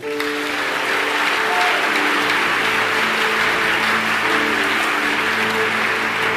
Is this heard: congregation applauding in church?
yes